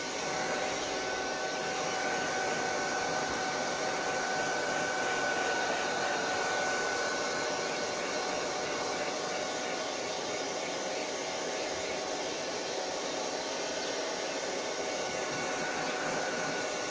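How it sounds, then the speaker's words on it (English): A hair dryer blows steadily and alone for the whole stretch, a loud, even broadband whoosh used to dry a reverse decoupage piece on a mirror. "alternatively you can use the hair dryer."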